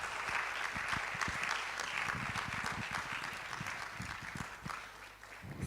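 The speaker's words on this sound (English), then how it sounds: "Another round of applause for her." An audience at a Ghanaian public lecture for physicians and surgeons applauds Reverend Dr. Ayer after her lecture, a sustained, fairly distant wash of many hands clapping that slowly tapers off.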